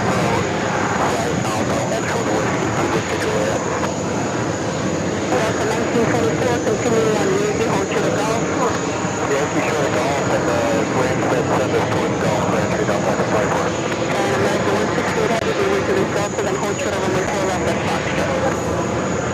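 A jet airliner roars during takeoff at JFK airport, a loud sustained engine rumble and whine lasting the whole stretch, near and steady, with a thin high tone running above it.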